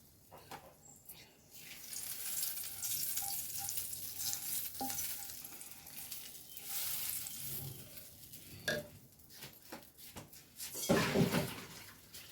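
Hot tempering poured into a meatless curry in a pan, giving a steady soft sizzle with stirring and bubbling sounds throughout, fairly quiet and close, with a louder splash of frying near the end.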